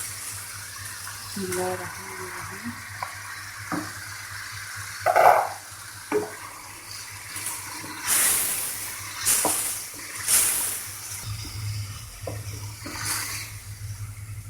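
Mutton liver is added to a tomato masala that has softened and nearly dried in a pan over high heat, giving a bubbling sizzle with stirring scrapes and a few louder clatters. A steady low hum runs underneath throughout.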